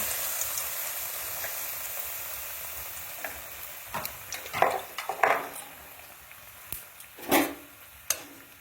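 Bengali-style potato chop coated in besan batter frying in hot oil, a steady bubbling sizzle broken by several sharp clinks and scrapes of a utensil against the pan, no speech.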